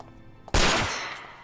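A single loud gunshot in Yakuza 4 Remastered, a sharp close blast with a ringing decay that fades over about a second after a quiet lead-in.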